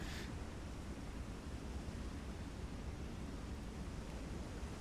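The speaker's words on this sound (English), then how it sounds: "Waves are a little choppy." Choppy ocean waves in the submarine game Silent Hunter III, a steady broadband rushing wash of surf and wind filling the scene at moderate volume with no talk.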